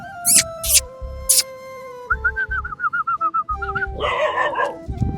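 Several sharp street dog barks close by, then a whining, whimpering yelp, with birds calling in the background.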